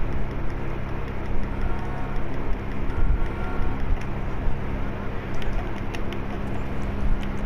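A bird in the video game GTA 5 Online, with soft cooing and bird calls over a steady, dense wash of engine and ambient game noise that runs throughout.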